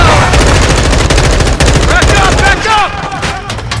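Heavy automatic gunfire roars in a Call of Duty: Modern Warfare II firefight, with loud, rapid bursts close by and a voice shouting over the shots.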